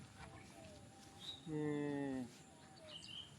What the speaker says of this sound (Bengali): যে ঘুঘু বলতেছে